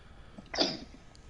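A single short sneeze bursts out once, fairly close and alone against a quiet background.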